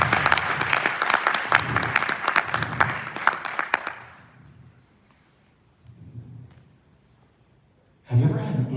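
Audience applause welcoming a speaker on stage: a loud burst of dense clapping from a large crowd that fades out after about four seconds, followed by quiet and then the speaker starting to talk.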